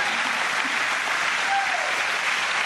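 An audience claps together in a steady, dense wash of applause that holds at an even level throughout, close and full, with no voices rising above it.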